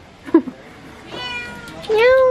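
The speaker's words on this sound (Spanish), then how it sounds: "me acabo de encontrar con un gato." A cat meows twice, with a short meow near the start and a longer rising meow at the end, close and loud, with a person speaking briefly in between.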